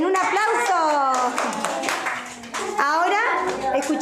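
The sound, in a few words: applause for a child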